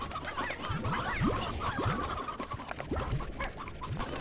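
Hens in the video game Slime Rancher cluck repeatedly in short, overlapping calls, a busy flock close by with no talk over it.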